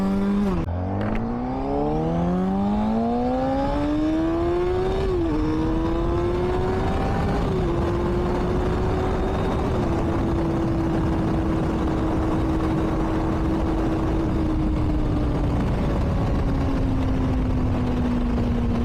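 A 2024 Honda CBR600RR 600cc supersport motorcycle engine revs and shifts up through the gears in sub-zero temperatures, the pitch climbing and dropping with each shift, then holding a steady high whine.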